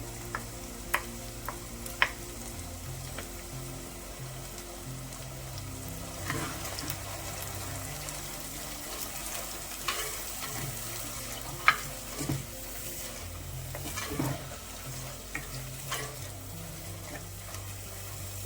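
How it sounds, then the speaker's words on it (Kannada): Ground masala sizzles steadily in hot oil for chicken curry, with soft continuous frying crackle and intermittent sharp clinks and scrapes of a spoon stirring in the pan. "ಒಗ್ಗರಣೆಯಲ್ಲಿ ಸ್ವಲ್ಪ ಮಸಾಲೆ ಬೇಯಲಿ, ಫ್ರೈ ಮಾಡ್ಕೊಳ್ಳೋಣ"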